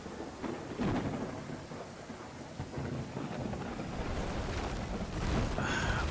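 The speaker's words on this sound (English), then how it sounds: "Another thunder." Thunder in the Viking village-building game Land of the Vikings: a low, rolling rumble over a steady bed of rain, quiet and continuous, with no voices.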